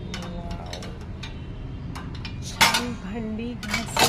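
Clean dishes and cutlery clink and clatter as an LG dishwasher is unloaded, with scattered light taps building to a few louder, closer clusters of rattling metal and crockery near the end.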